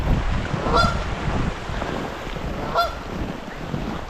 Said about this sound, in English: There's some geese.